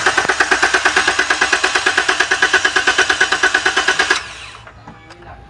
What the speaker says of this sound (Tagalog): At ngayon ay subukan nating paandarin.